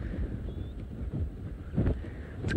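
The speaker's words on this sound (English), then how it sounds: "can you hear the wind has just picked up now?" Gusty wind buffeting the microphone outdoors at a dam on a safari, a continuous low rumble that swells in stronger gusts, loud and close with no talking.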